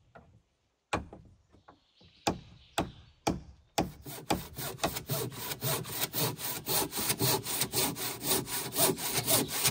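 Handsaw cutting through a piece of wood: a few slow starting strokes give way to a steady, rapid back-and-forth rasp, close and loud, stroke after stroke without pause.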